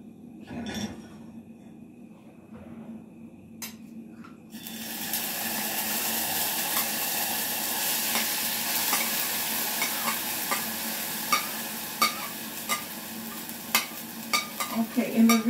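Rinsed jasmine rice hits hot oil in a pot and starts sizzling loudly after a few quiet seconds. A steady frying hiss follows, broken by repeated scrapes and clinks of stirring that grow more frequent toward the end.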